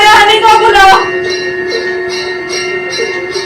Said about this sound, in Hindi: नागलों की घंटी बजाओ